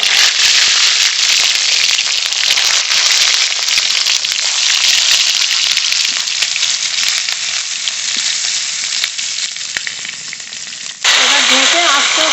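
Pieces of pointed gourd sizzle loudly in hot mustard oil in a wok, with a dense, constant crackling hiss that shifts in texture near the end.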